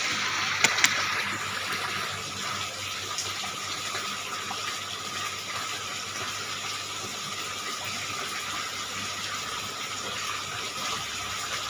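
Water pours and gushes steadily during an aquarium water change, a soft continuous splashing stream heard close by with a couple of brief knocks near the start.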